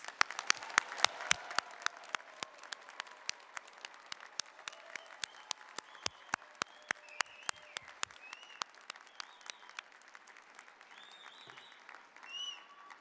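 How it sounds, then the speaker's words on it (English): An audience claps for nursing graduates at a university commencement, with a dense, steady patter of many hands spreading across a large hall and a few sharp nearby claps standing out before it thins toward the end. "Let us give a round of applause for these exceptional"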